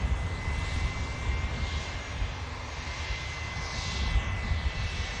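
Airbus A380 jet on final approach about seven miles out from Manchester Airport, a steady broadband engine roar at moderate distance, continuous and slowly swelling with no talk over it.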